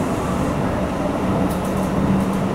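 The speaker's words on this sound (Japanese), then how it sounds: "レールの継ぎ目のないロングレールな音がしますが" A JR Central train runs on continuous welded long rail along the Iida Line near the Tenryu River, giving a steady low rumble and hum without rhythmic joint clicks, heard from inside the carriage.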